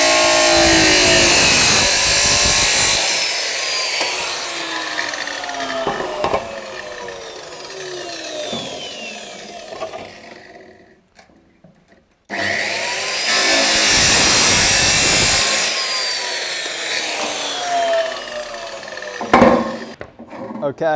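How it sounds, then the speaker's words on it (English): A circular saw cuts into a metal downpipe in two long, loud, harsh bursts with a short quiet gap between them, close up. "we've got our cuts that I did with the circular saw"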